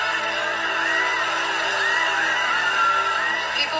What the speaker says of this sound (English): shouts of celebration suddenly turn into shrieks of terror